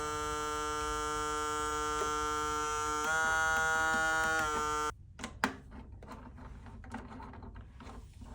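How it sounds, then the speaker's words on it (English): A replacement bobbin winder assembly on a Grace Company sewing machine runs under test with a steady electric buzz and whine, rising briefly louder, then cuts off abruptly into quiet mechanical clicks and taps. "then we'll want to test the bobbin winder"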